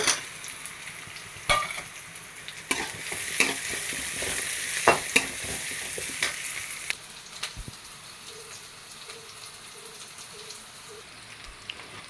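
Small whole onions fry in hot oil in a pan, a constant close sizzle with a few sharp knocks and scrapes of a spoon early on, easing to a softer steady crackle toward the end.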